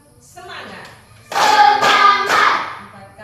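Hands clapping in a counted group chant, a few sharp claps in quick succession alongside voices.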